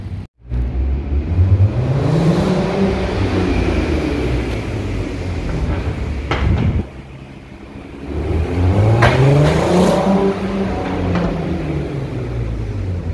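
A Volkswagen Golf 5 R32 engine drones and rises in pitch as it accelerates, eases off briefly, then revs up again, sounding close and steady like driving on a road during a road test.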